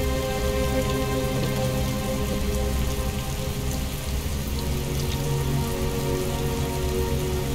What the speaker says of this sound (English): Heavy rain. It's been the same for weeks.